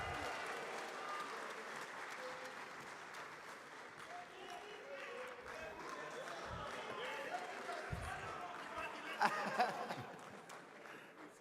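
Audience applause at the 30th Afreximbank Annual Meetings welcoming Ghanaian footballer Asamoah Gyan, a long, moderately distant wash of clapping with crowd murmur and voices underneath, swelling slightly near the end.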